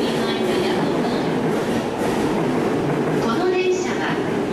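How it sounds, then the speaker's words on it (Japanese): A JR train pulls into a platform at Ueno Station in Tokyo, arriving as the last train of the night. A steady, loud rolling rumble with rail clatter runs throughout, under a muffled announcement voice. "The train bound for Ikebuku and Shinjuku will soon arrive on track number 2."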